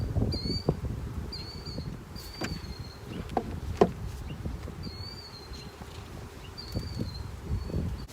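Honey bees hum and buzz steadily around a woodland beehive, with several near passes weaving over the drone, soft rustles and a few faint bird calls in the background.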